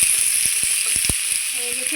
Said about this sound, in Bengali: ভাজা তেলেই আমি আলুগুলো ভেজে